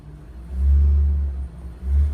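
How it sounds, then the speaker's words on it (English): School bus engine revs twice with low, heavy rumbling surges as the accelerator is pressed during a pre-trip inspection. A long swell comes first, then a shorter second push, both close and loud. "This will rev the engine."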